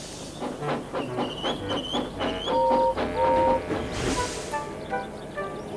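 James, a steam engine, speeds down a branch line with rhythmic chuffing and clattering wheels, sustained whistle-like tones, and a burst of hiss near the end, all loud and close.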